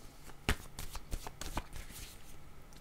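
Tarot cards are shuffled by hand before a draw, giving a close, continuous riffling and slapping of cards for about three seconds, with a couple of sharper snaps and no one speaking.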